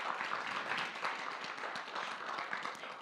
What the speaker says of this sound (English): Can we give them a quick round of applause again?